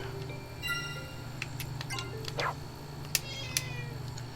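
A cat meows a few times close by in a video game's Great Wood area, short rising cries over a steady low background hum, with faint ticking clicks.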